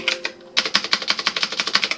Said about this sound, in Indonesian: Caranya adalah kita ketik di sini.